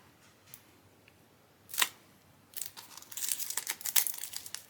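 A package holding three rolls of washi tape is opened up close, with a few soft clicks and a short sharp rustle, then a run of crinkling and tearing plastic wrap that grows busier toward the end.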